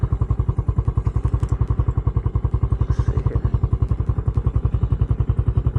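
Skygo Boss 150 motorcycle engine idling steadily, a close, even rapid thumping pulse that holds its rhythm throughout with light mechanical clatter on top.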